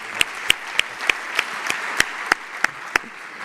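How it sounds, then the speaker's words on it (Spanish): Applause at a cybersecurity conference stage in the Basque Country: a small, evenly spaced run of about a dozen crisp claps over a low room murmur. "Vamos a darle un aplauso porque ya que se ha subido al escenario."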